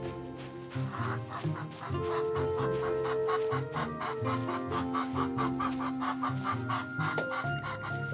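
Chickens cluck and squawk in the video game Kinsfolk, a steady busy chorus of fowl calls layered over constant game music, with no talking.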